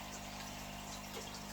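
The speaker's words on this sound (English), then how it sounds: "Let's just siphon it up" Soft, steady gushing of water being siphoned out of a 40-litre fish tank, a faint continuous flow with a low hum beneath it and no voices.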